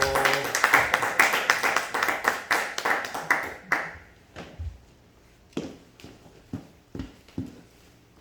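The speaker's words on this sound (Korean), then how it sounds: "우리 박수로 환영하겠습니다" A church audience claps to welcome a visiting missionary speaker, starting with a few seconds of dense, close clapping. It thins into scattered individual claps and taps before dying away.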